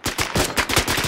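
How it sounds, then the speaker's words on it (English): Rapid automatic gunfire in the military shooter Arma 3, a quick burst of about ten loud, close shots in uneven rhythm with no talk over it. "I hear shots."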